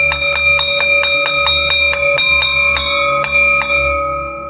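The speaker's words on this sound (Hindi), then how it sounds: "घंटी बजी, रिसेस खत्म हो गई।" A school's electric bell rings in a rapid series of about a dozen sharp, evenly spaced strikes, loud and close, then fades out.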